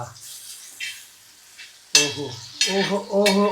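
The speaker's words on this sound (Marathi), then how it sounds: "स्नेहा आता सुरमईला मस्तपैकी पलटी करते" Surmai fish sizzles in a frying pan as it is flipped, with bursts of frying and pan clatter. A voice talks over the sizzle in the second half.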